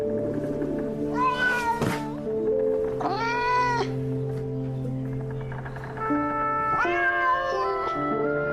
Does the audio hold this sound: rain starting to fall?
no